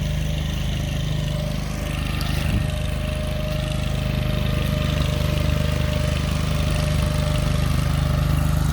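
A tractor engine drones steadily while running a soil reclaimer attachment on a homestead, a constant close mechanical hum with no change in pace.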